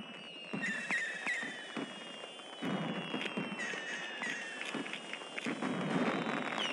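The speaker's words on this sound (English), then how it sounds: "Watch out for that firework." Fireworks going off in the Ninjago Shadows of Ronin video game, a series of crackling bursts and pops with whistling streaks over game ambience, moderately loud with no speech.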